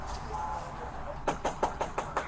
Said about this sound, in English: After a full 3 minutes of knocking, the police finally get a response from inside.